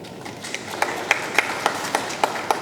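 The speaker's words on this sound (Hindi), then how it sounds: "तालियों" Audience applause at a Bihar book launch event, a dense wash of many hands clapping at steady moderate volume, with a few sharper claps standing out in a loose rhythm.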